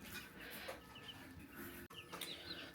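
Chickens clucking and calling inside a backyard coop, a steady close-up chorus of overlapping clucks with occasional sharper squawks, no talking.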